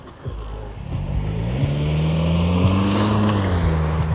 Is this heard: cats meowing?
no